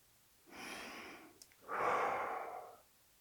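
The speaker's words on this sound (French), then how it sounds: "Les 25 respirations sur le même modèle que précédemment." Two slow, deep breaths during a guided breathing exercise, a softer inhale followed by a longer, louder exhale, close and alone with no talking.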